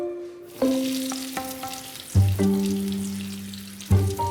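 Slices of eggplant hit bubbling hot oil in a pan, each drop setting off a sudden loud sizzle and crackle that settles into steady frying, with three distinct bursts as pieces are added.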